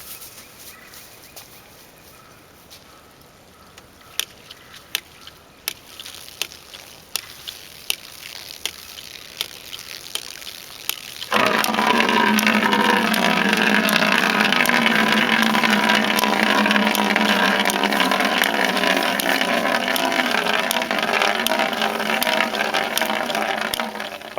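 Water from a hydraulic ram pump pours steadily into a 5-gallon bucket, a loud, constant rushing splash that starts abruptly partway through, preceded by quieter sharp periodic clicks.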